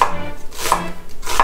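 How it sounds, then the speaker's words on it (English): A knife slices through an onion on a cutting board while stuffing is prepared: three crisp, close chops spaced evenly about two-thirds of a second apart, over a quiet kitchen background. "양파 썰고"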